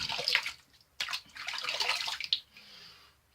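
Water splashes in a sink as someone re-wets their face with hot water before a shave, in two bursts of close, bright splashing and dripping with a short pause between them, then a gentle trickle that fades out.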